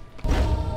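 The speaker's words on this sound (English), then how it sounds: "Nail gun." Nail gun fired in the online shooter Gene Shift Auto: a sudden heavy thump followed by a sustained loud, dense low rumble with no talk.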